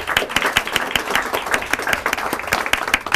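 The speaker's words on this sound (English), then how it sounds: "I want to applaud you guys for helping us out also, Mr. Heath, and your class for helping." An audience applauds for elementary school students and their teacher at an Alaska state quarter unveiling, a dense steady round of clapping from a crowd, loud and close throughout.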